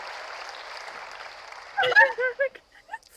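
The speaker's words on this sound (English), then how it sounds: "The fake applause." Fake applause in the video game Contradiction fills the first half, broad and applause-like, then gives way to a few short bursts of voice-like sounds, moderately loud and close.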